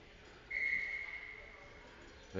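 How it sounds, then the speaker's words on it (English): A referee's whistle at a youth hockey game, one sustained shrill blast that fades slowly against a quiet arena background. "There's a whistle."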